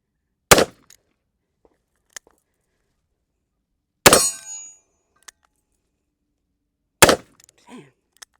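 Three revolver gunshots ring out at an outdoor range, each a sharp, loud crack spaced several seconds apart, the middle one trailing a brief metallic ring, with quiet gaps in between.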